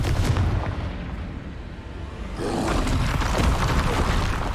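Bombarda and Confringo spell explosions in Hogwarts Legacy, with loud booming blasts and crackling bursts layered over continuous rumbling combat noise and no talking.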